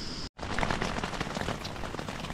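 Rain patters steadily on a tent while bikepacking in Belgium, a dense, even hiss of drops close overhead after a brief cut near the start, with no voices.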